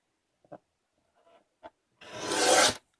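Material for a handmade album is cut: a few soft taps and rustles, then one close, sharp slicing rasp lasting under a second.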